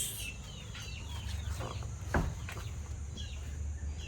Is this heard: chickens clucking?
yes